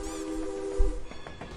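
Synthetic train horn and rumbling rail sound from a stream's Hype Train alert, a sustained tonal horn blast over low rolling clatter, loud and close, no speech.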